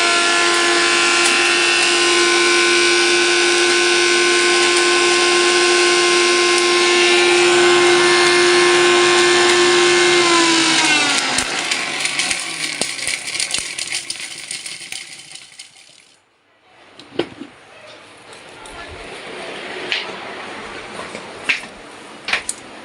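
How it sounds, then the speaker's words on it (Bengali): A kitchen mixer grinder whirs loudly and steadily for about eleven seconds while grinding spices, then winds down and stops, followed by quieter clicks and handling noises of the jar. "এই যে মিক্সি মেশিন করে দিলাম, মশলাটা এক্ষুনি গুঁড়ো হয়ে যাবে।"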